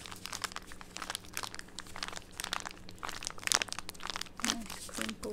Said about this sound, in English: Nice crinkles in there.